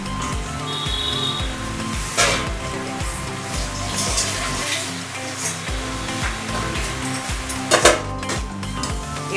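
Bone-in chicken pieces sizzling in hot spiced oil in a pan: a constant loud frying hiss with occasional clinks and scrapes of a stirring utensil against the pot.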